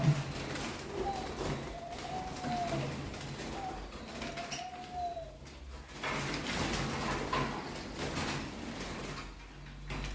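Young canaries gathered in a newly built aviary give soft chirps and short sliding calls over a faint steady background hum, moderately distant.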